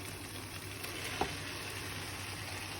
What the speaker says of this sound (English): Let's pop our noodles in there.